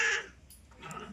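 A crow caws outdoors as rain approaches, one short harsh call at the start and a fainter second call near the end, with no talk.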